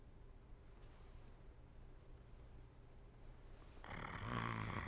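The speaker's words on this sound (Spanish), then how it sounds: "Mi padre roncaba como si nada hubiera ocurrido." A man snores in a quiet room, a low steady rumble running throughout, followed near the end by a sudden louder burst of broadband noise.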